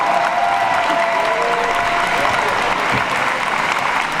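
Applause from the audience at a united-left municipal election rally in Brest, a dense, steady wash of clapping lasting the whole stretch with a faint tonal whine over it.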